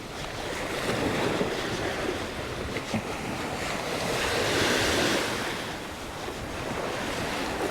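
Sea breeze and surf on Naklua beach in Pattaya, Thailand: a steady broadband wash of breaking waves with wind buffeting the microphone, swelling a little around the middle and staying fairly loud throughout, with no voices.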